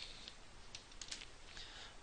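Computer keyboard typing while writing code, a quick run of light key clicks with short pauses between bursts over a low, steady room hiss.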